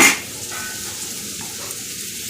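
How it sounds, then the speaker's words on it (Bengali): Bitter gourd and pumpkin frying in a pan, a steady soft sizzle after a brief sharp clatter at the start. "এই দেখো উচ্ছে কুমড়ো ভাজা বানাচ্ছি"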